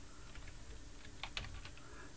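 Soft, close clicking of keys typed on a computer keyboard, a quick light patter with a couple of sharper taps.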